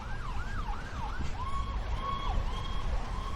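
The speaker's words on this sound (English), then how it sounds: "There goes Rehoboth ambulance to the hospital." A Rehoboth ambulance siren wails in a rising and falling pattern, switching to a steadier yelp partway through, moderately close and passing amid constant traffic rumble with no talk.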